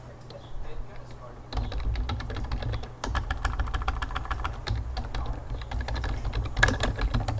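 Rapid clacky computer keyboard typing close to the microphone, bursts of keystrokes in quick succession over a low steady hum, with a faint voice at times during a Kerbal Space Program session.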